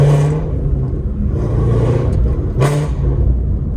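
A Ford Mustang GT350 with its exhaust valves open sends out a loud, deep, steady exhaust rumble up close, with a short surge partway through.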